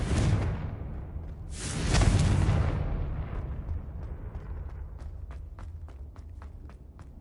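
Confringo fire-blast spell from a Harry Potter video game: a roaring explosive burst with a rumbling tail, followed by a run of quick light footsteps and clicks.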